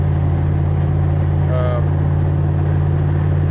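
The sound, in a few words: Chevrolet Equinox engine idling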